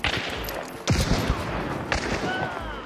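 Gunfire rings out in the Hunt: Showdown video game, two sharp, loud shots about a second apart with echoing tails over busy background noise, while players talk.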